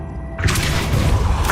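A Depulso force spell cast in Hogwarts Legacy: a sudden loud booming blast with a sharp bright crack, followed by a sustained rumbling, shattering wash of impact noise.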